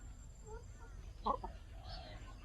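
Free-ranging backyard laying hens feeding in the evening give a brief, faint cluck or two over a low, steady outdoor background.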